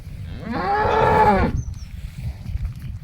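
A dairy cow at a cattle sale near Davangere, where high-yield milking cows are sold, gives one loud, drawn-out moo lasting about a second, close by, followed by quieter outdoor background noise.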